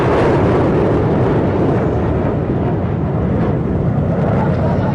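Three MiG-29 fighter jets from Adampur fly past in formation, a loud, steady, close jet roar that fills the whole stretch without a break.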